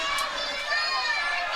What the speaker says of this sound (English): There's a bit of chirp already from the crowd.